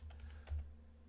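A computer keyboard clicks in a short, faint burst of a few quick keystrokes, typing a command in a Kali Linux terminal, alone without talk.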